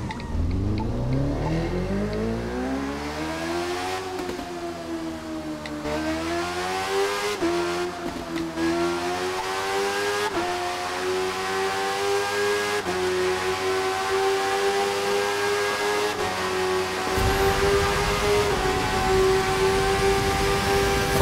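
BMW S1000 RR motorcycle engine in The Crew 2, ridden through Lower Manhattan in New York, a loud continuous high-revving whine that climbs through repeated gear shifts, dipping briefly at each change before rising again toward top speed.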